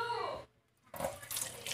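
Tomatoes rinsed under a running kitchen tap, a steady rush of water that stops briefly and then resumes, close and fairly loud.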